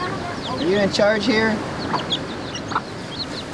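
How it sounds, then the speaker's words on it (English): Chickens cluck and murmur nearby in an island setting, scattered soft clucks running under and after a person's talk. "Oh, hello, chickens. Beautiful chickens."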